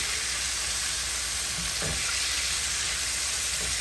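Slider buns sizzle steadily in a hot pan, a constant close frying hiss broken by a few soft knocks as they are flipped.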